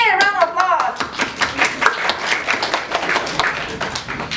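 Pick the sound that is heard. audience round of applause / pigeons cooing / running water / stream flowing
audience round of applause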